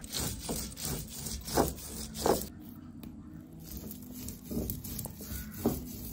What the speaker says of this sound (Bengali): সঙ্গে চাল দিয়ে বাটলে তিলটা তাড়াতাড়ি বাটা হয় আর ভালো বাটা হয়।